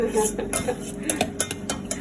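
Metal utensils clatter and scrape against a small backup cooking pot while minced pork with mushrooms and chili is stir-fried, giving a steady run of close, busy knocks and rattles with no talk.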